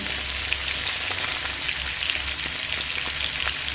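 Ginger and garlic pieces frying in a pan with oil, a dense loud continuous crackling sizzle close up, steady throughout with faint scattered pops and no voices.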